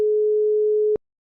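A single steady electronic telephone tone sounds clearly for about a second and then cuts off, alone with no voices, as a call is placed.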